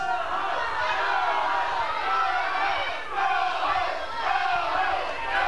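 A wrestling crowd at an NWA event chants "Go home" at John Campbell, a loud, dense mass of voices rising and falling in steady waves that fill the whole stretch.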